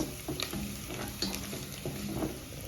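Chopped ginger cooks gently in a soup pot on low heat, a soft continuous sizzle broken by several scraping stirs, close and steady with no talk.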